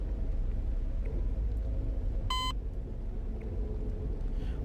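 A single short electronic beep in the Half-Life mod Interloper, a brief bright tone heard once over a constant low rumbling game ambience.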